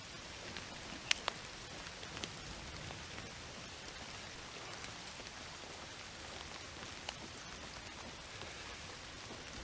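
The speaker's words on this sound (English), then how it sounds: "A nice rainy night." Rain falls on a night in Southeast Asia in the video game Indiana Jones and the Great Circle, a soft, steady hiss of drops on surfaces with a few sharper pattering hits, heard alone and fairly faint.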